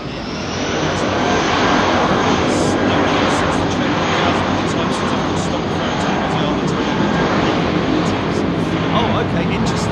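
A jet airliner roars steadily on takeoff from Heathrow runway 27R, a loud, broad, sustained engine rumble filling the whole stretch, with faint voices talking underneath.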